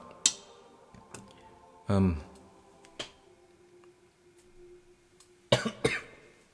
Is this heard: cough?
yes